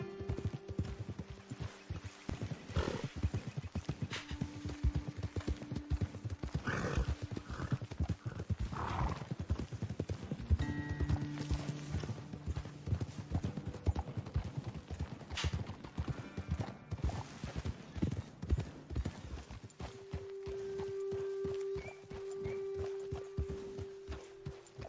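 Horses walk with a steady clip-clop of hooves in Red Dead Redemption 2, punctuated by occasional whinnies and a low background hum, game-like and clean.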